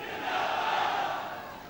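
Political rally crowd in Pakistan shouting a slogan together, a broad roaring swell of many voices that rises and holds for under two seconds, loud and diffuse without distinct words.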